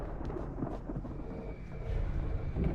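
A thunderstorm in the video game Alan Wake gives a low, continuous rolling rumble with rain-like hiss, quiet and distant, swelling slightly toward the end.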